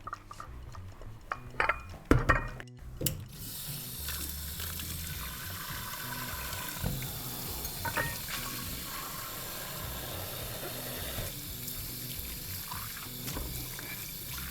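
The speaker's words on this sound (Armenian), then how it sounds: "Հիմա մի հատ ամանները տանեմ լվանանք" Dishes being washed under running water at a sink, a faint steady stream of water with a few louder clatters of crockery near the start.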